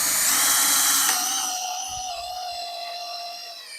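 A handheld power drill runs in a garden during work on pulling a post, a loud steady whine with harmonic lines that winds down slightly in pitch over several seconds, no voices present.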